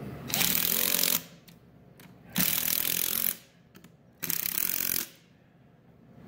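Three loud, sustained bursts of a power tool tightening bolts on a scratch-built 2x72 belt grinder, each about a second long, separated by short quiet gaps.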